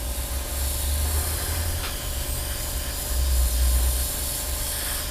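Steady, close hiss of spray paint coating the wing of a Hasegawa 1/48 Harrier GR7 model kit, continuous throughout with a low background rumble and no voices.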